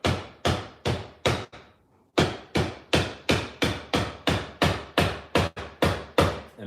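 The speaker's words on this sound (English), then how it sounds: "I'm just letting the weight of the hammer with this brass piece on the back do the work" Steady rhythmic taps of a hammer with a brass backing piece seating frets on a new guitar neck, about fifteen sharp close strikes at an even pace with one short pause partway.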